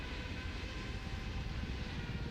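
In Microsoft Flight Simulator 2020, a Singapore Airlines airliner's engines give a steady, distant-sounding broadband roar that holds level throughout without a break.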